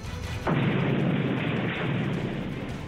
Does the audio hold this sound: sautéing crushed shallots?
no